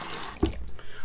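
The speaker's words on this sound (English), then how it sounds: "And I'm going to add water to it." Water is added to a soft shaving soap from the LPL Oud Santal scent, a short splash and trickle around the middle of a quiet moment, with a faint voice nearby.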